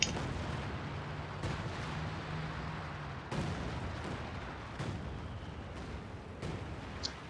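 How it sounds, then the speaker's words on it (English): Artillery barrage in the strategy game Company of Heroes 2, a steady rumbling bed of distant explosions with a few sharper thumps scattered across the stretch, fairly faint and continuous. "Oh look, big artillery coming in."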